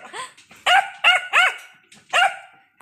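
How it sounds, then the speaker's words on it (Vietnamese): Belgian Malinois puppies bark close by in a string of about five sharp, high-pitched yips with short whimpery tails and uneven pauses between them. "Con đứa sủa ghê kìa."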